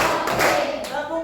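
A classroom group claps in a pattern of two, two broad, overlapping bursts of many hands close together, fairly loud, with no pause of silence between them.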